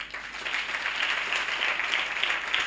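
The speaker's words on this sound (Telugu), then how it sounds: "గట్టిగా ఏసైకి చప్పట్లు కొట్టండి" A church congregation bursts into sustained applause, dense even clapping from many hands lasting a few seconds with no talk over it.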